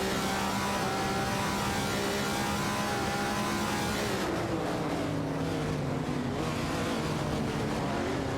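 Simulated race car engines from an AI racing video game, including a 1970 Plymouth Superbird and a Ferrari 250 LM, droning and revving continuously with shifting pitch, several cars blending together, loud and without pauses.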